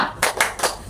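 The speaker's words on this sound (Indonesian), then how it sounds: "Tepuk semangat." A standing group does a rhythmic spirit clap at a child-friendly training session: three sharp, evenly spaced claps in quick succession, close and bright, with no talking.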